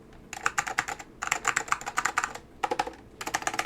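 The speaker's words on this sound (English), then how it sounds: "This is an Apple standard keyboard M0116 with orange Alps." Rapid typing on an Apple Standard Keyboard M0116 with orange Alps switches, close and crisp, coming in several bursts of clacky keystrokes separated by short pauses, with no voices.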